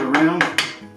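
Stirring thyme, rosemary and sage in a pot during a turkey crown cook on a kamado grill: a few close, bright clinks and scrapes of a utensil against the pot, about three distinct strikes within a second.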